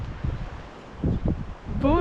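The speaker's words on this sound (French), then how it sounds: "Oh non, il y a trop de vent." Strong wind buffets the microphone outdoors on a beach at sunrise, rumbling in low gusts with rustling, and a voice starts speaking at the end.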